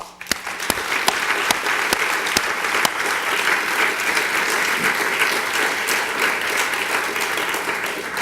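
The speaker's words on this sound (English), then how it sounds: "Let's give another round of applause to all the CREST Award" Sustained applause from an audience at an awards ceremony honoring award winners, with a few sharp, close claps standing out early over the dense, even clapping of the room.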